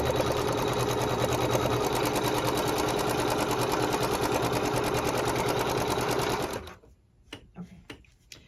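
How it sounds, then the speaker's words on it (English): Sewing machine stitching a tack to hold fabric and lace in place, a loud steady rapid mechanical whir running continuously for several seconds, then stopping abruptly into a few faint clicks and handling noises. "I'm going to sew a tack down to hold that fabric in place."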